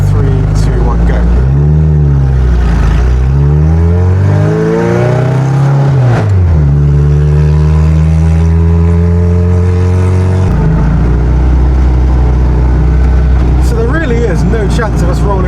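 A Reliant Reaper's engine revs and accelerates hard, loud and close, its pitch climbing through the gears with a brief drop and surge in the middle and a constant roar from start to finish. Voices can be heard over the engine.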